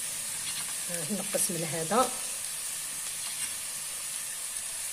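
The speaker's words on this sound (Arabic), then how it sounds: "فوالا البصل نقلوه بالملح باش تبنى لكم الماكله تاعكم" Onions fry with salt in a pan for a Algerian-style economical fennel tajine, giving a soft, steady sizzle close by, while someone speaks briefly over it.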